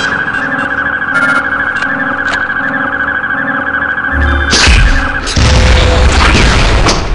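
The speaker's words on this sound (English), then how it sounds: "Using a timed trigger setting, you can make your mule into a grenade launcher." A grenade from a mule launcher exploding in the Gunman Chronicles video game: a loud boom bursts out after a steady stretch of humming game ambience and music, followed by a rumbling, noisy aftermath.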